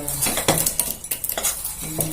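Powdered sugar being stirred into flour for laddu, with a utensil scraping and clinking against a bowl in repeated close strokes, no talking.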